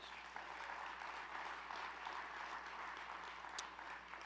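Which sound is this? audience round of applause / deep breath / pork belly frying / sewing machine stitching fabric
audience round of applause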